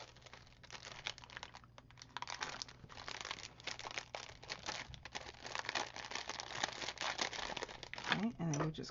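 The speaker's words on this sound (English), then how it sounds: "we're going to add some ATG tape to the side so we can fold it over" ATG tape pressed along the side of a paper flower craft piece produces dense, close crinkling and tearing rustles that run steadily throughout, with brief scratchy bursts.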